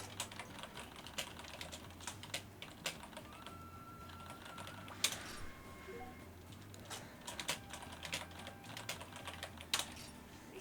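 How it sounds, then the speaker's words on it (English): Quick, uneven tapping on a computer keyboard resting on a lap, clicks arriving in short bursts and scattered keystrokes, fairly close but soft, over a low background hum with no talking. "So I'm keeping my keyboard on my lap so I can just type nice and easily"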